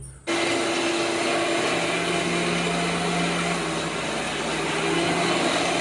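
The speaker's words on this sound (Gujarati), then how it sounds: "તો તમારા મિક્સરમાં પણ આવો અવાજ આવે છે" A mixer grinder blending mango pulp with cashews and almonds for homemade mango ice cream, starting abruptly and running as a loud, continuous motor whir with a steady droning hum for several seconds.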